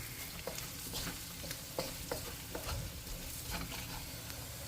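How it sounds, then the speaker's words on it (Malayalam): Coriander, chili and pepper powders are stirred through a hot pan. There is a faint, steady sizzle with scattered light spoon scrapes and clinks, up close and quiet, and no voices. "നമുക്കിതെല്ലാം കൂടി നന്നായിട്ട് മിക്സ് ചെയ്യാം"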